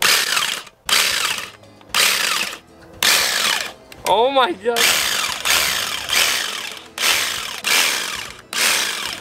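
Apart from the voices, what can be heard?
power tool carving a pumpkin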